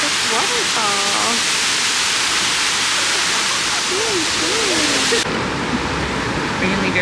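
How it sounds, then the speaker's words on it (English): Waterfall in Seoul, South Korea on a humid day, a steady broadband rush of falling water filling the whole scene, with people talking over it. "look at this waterfall."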